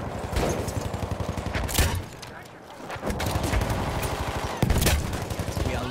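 An MG08/18 machine gun fires in sustained, loud, rapid bursts during a World War I battle at Fort de Vaux in a video game, with brief pauses, distant explosions and game voices mixed in.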